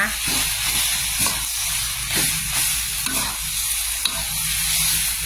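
Young jackfruit curry being stir-fried in a pan, a loud continuous sizzle and hiss with repeated scraping stirs of a utensil against the pan, close by.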